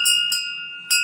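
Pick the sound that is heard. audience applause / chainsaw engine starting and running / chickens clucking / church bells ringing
church bells ringing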